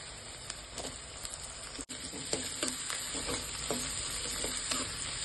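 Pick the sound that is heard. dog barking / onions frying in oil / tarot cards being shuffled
onions frying in oil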